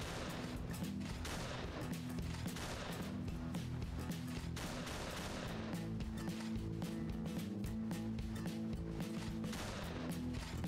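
Rapid video game gunfire and impacts in the party game Pummel Party, a dense continuous barrage of shots and crashes over layered game music, played quietly and without talk.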